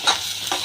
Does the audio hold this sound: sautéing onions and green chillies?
yes